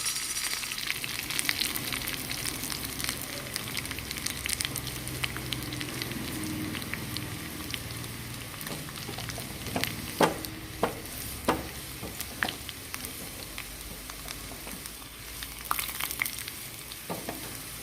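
Curry leaves and dried red chilies fry in hot oil with shallots for a white cherupayar curry, giving a steady sizzle broken by scattered crackles and pops, with occasional stirring.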